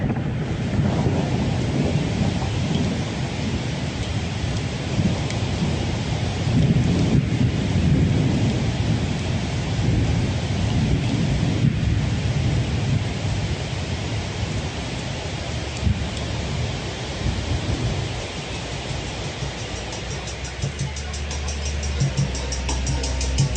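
Heavy thunderstorm with steady pouring rain and deep rumbling thunder, loud and continuous throughout, with wind-buffeted noise and no voices.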